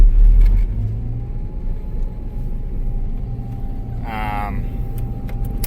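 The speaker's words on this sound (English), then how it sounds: "So we need to engage our combine." Combine harvester in a farming video game engaging, its header lowered and set to full throttle: a steady low engine rumble runs throughout, with a brief mechanical whirring burst partway through and a voice talking over it.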